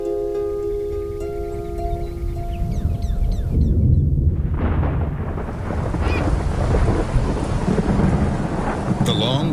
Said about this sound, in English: The long wait for rain is over.